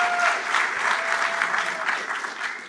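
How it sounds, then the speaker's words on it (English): Sincere audience applause at a live fireside chat, a dense, steady wash of many hands clapping at once that holds evenly throughout and tapers slightly at the end. "I think that was actually sincere applause for you."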